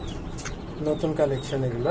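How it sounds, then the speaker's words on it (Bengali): Desi chickens kept in a cage farm give soft, low clucking and cooing calls, close by and under a man's speech. "হচ্ছে আমার দেশি মুরগিগুলা"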